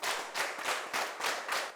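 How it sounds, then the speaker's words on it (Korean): A lecture audience claps together in unison, a quick run of evenly spaced, sharp collective claps, each a full, close burst of many hands. "7번 한번 쳐볼까요? 시작."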